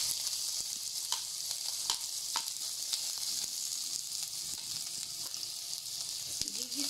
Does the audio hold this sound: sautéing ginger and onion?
yes